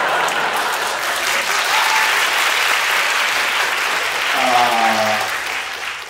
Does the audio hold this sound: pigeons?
no